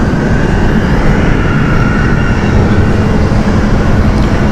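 A Finnair airliner departs from Amsterdam Schiphol Airport with a loud, steady jet roar that fills the whole stretch, close and unbroken on a warm day.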